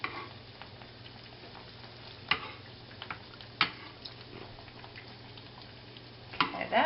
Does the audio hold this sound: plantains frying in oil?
yes